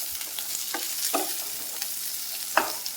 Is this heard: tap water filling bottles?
no